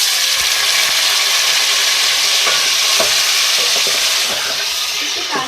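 Chicken frying with onions in a pan, a loud, steady sizzle up close with scraping strokes of stirring running through it.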